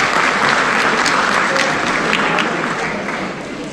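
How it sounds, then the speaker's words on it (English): A large audience in a school district general assembly claps steadily, a dense wash of applause that stays loud and slowly tapers off toward the end. "How about a big round of applause for our JROTC for that presentation of colors."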